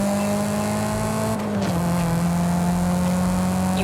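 Mitsubishi Lancer Evolution IX racing in Forza Horizon 5 during a time attack run, its engine note droning steadily with a brief shift dip midway, loud and continuous without talk.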